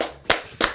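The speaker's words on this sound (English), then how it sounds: "Round of applause." A few sharp hand claps in a small studio, three short bursts spaced apart with quiet gaps between.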